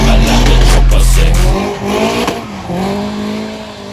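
Car drifting at Rockingham racetrack: a loud engine roar with a sustained, wavering tire squeal as the car slides, close by.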